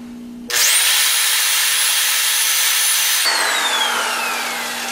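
A power drill bores a deep hole into a piece of wood, a loud sustained whine with grinding bite that starts abruptly, holds steady, then the motor pitch drops as the load eases near the end.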